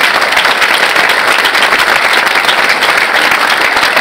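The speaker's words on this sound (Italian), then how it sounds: "Innanzitutto un applauso fortissimo per Mario." Loud, dense applause from an audience at an Italian civic political gathering, honoring a man named Mario; steady clapping fills the whole stretch without pause, with no talk over it.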